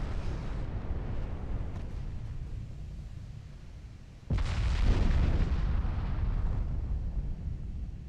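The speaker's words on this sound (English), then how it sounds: "Now I think we're shooting with the 4-pounder guns as well" Naval guns fire in the warship strategy game Ultimate Admiral Dreadnoughts, including small 4-pounder guns, with a rumbling battle backdrop and one sudden loud blast partway through followed by sustained heavy roar.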